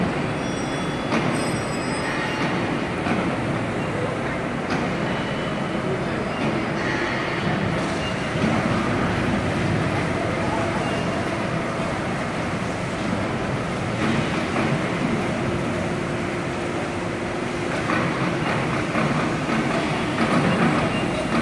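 An ACCURL 6-axis hydraulic CNC press brake of 220 tons and 4000 mm with eco function and servo drive runs steadily close by, giving a low continuous mechanical hum with faint clanks and no speech.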